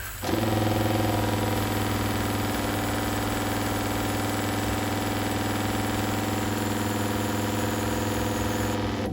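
A surfactant spray pump rig's engine starts and then runs at a steady, loud, even drone with a constant mechanical hum, close up and uninterrupted until it cuts off at the very end.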